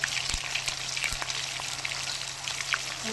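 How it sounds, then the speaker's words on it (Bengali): Fish fries in a pan with a loud, close, continuous sizzle full of fine crackling and a few sharper spits, alone with no voices. "বন্ধুরা দেখুন কত সুন্দর মাছ ভাজা"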